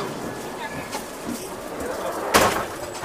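An Indian Railways AC 3-tier economy coach door slides along its track with a brief rumbling slide and a soft thud near the end, set against steady carriage noise and faint background voices.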